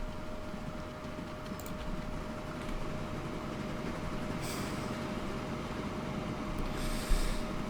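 A train pulls into a station in the video game Transport Fever, a low steady rumble with a faint tonal hum and brief hissing bursts of brakes, no speech.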